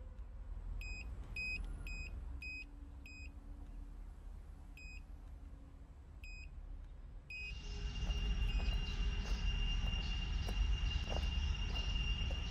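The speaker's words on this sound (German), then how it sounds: "Ich glaube, das Gepiepe war die Drohne." A series of short, high electronic beeps from a drone repeats in small groups, then a louder whirring, windy motor noise takes over.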